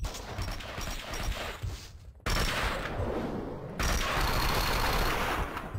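Rapid bursts of gunfire in Max Payne 2, loud, dense and continuous, with machine-gun-like fusillades and brief pauses between volleys.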